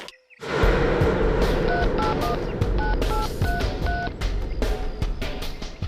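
Telephone dialing on a landline phone, a quick series of short keypad tones in an uneven rhythm over a steady background of traffic and room noise.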